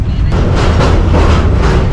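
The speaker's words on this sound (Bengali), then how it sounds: "দর্শক, ট্রেন কিন্তু চলছে" A train runs on rails in cold winter weather, giving a steady, close, continuous rumble with rattling, and no voices for two seconds.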